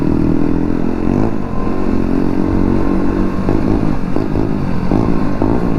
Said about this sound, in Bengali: নয়নের বাইকে হেভি আওয়াজ হচ্ছে গাইস। এই এক্সস্টের সাউন্ড শোনার পরেই না আমারও এক্সস্ট ইনস্টল করতে ইচ্ছা করে